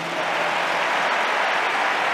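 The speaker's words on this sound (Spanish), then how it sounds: "Otro aplauso gigantesco." A large crowd bursts into dense, loud applause during a political speech by Milei in Spain, a continuous roar of many hands clapping that holds steady and full for the whole stretch.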